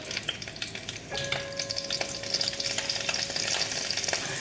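Garlic cloves sizzle in hot coconut oil in a pan, a crackling fry that starts quietly and then grows louder and denser up close, with small stirring clicks and no speech.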